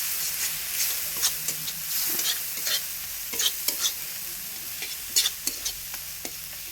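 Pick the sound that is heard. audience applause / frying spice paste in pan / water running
frying spice paste in pan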